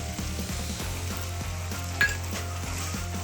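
Sauce sizzles steadily in a hot pan as egg chili is stir-fried, with rhythmic spatula scrapes and one sharp metallic clink partway through, no voices.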